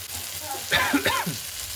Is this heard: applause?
no